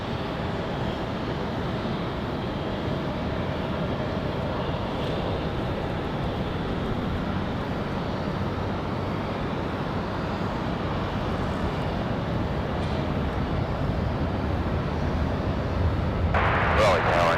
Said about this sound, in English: It's going to be a 737-700 for Southwest.